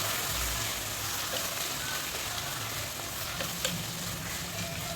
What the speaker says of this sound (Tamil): நல்லா ஃப்ரை பண்ணிடலாம்